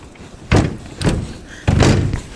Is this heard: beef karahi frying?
no